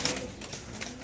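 Pigeons cooing softly in a market cage area, a few low murmuring coos over a steady background hum, fairly faint and continuous.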